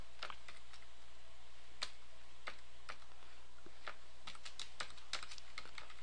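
Computer keyboard keys clatter in soft, irregular bursts of typing, close but quiet against a hushed background, with short pauses between clusters of taps.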